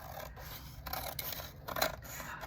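Small handy scissors snip through paper in short rasping strokes, close and fairly quiet, over a steady background hiss.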